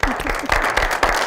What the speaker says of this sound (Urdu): بہت ساری تالیاں جی